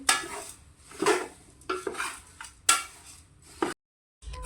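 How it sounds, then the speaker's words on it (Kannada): Paper poha (avalakki) dry-roasting in a pan over a low flame, with a spoon scraping and stirring in irregular bursts of light clatter and rustle, close by, with no talk and a brief silent gap near the end. "ಒಲೆ ಸ್ವಲ್ಪ ಸಣ್ಣ ಇಟ್ಕೊಂಡು ಹುರಿಬೇಕು ರೀ ಅಂದ್ರೆ ಹೊತ್ತಂಗಿಲ್ಲ ರೀ ಅವಲಕ್ಕಿ"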